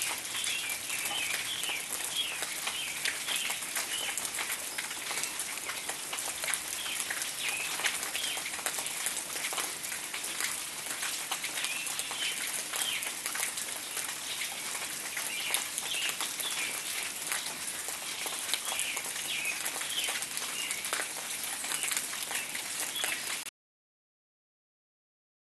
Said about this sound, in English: out here it's the sound of everything dripping and the robins in the trees